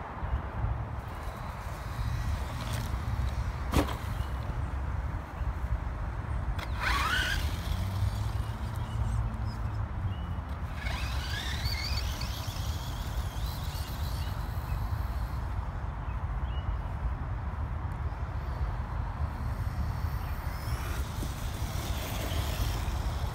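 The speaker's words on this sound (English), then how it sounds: "It's pretty cool how it just drifts in the dirt" A JLB Cheetah RC car drifts and scrabbles through dirt in a steady, continuous rumble, with a few sharp skids and scrapes rising over the grinding noise.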